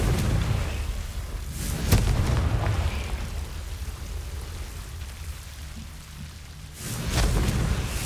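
Fiery blasting rumble from the Confringo explosion spell in Hogwarts Legacy, a loud, sustained roaring burst with a sharp crack near the start and another surge at the end.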